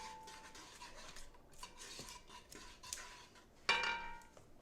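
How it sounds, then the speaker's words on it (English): A spatula scrapes and stirs creamy pecan pie cheesecake filling around the sides of a mixing bowl, with soft repeated scrapes and a few light clinks against the bowl, fairly quiet. "You might want to scrape that on the sides with your spatula too."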